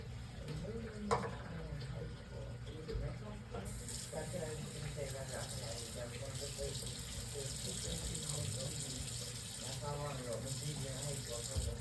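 A kitchen tap runs with strong water pressure, a steady close rush that grows brighter partway through while people talk quietly under it.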